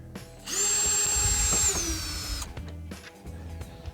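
A power drill tightens screws on LED tail lights for an older Ford pickup, running in one loud two-second whirring burst that bogs down as the screw seats, followed by quieter short bumps and handling noise.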